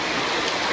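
Steady rain falls without pause on a wet village monsoon day, a dense, even hiss close by with no breaks and no voices.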